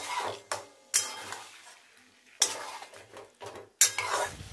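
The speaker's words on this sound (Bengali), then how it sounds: "এবার এঁচোড়টা দিয়ে আর একটু ভালো করে কষে নেবো, সঙ্গে একটু জল দেবো" Young jackfruit stir-fried in a pan, heard as repeated bursts of spatula scraping and stirring with a light sizzle between them, loud and close, with short quiet gaps.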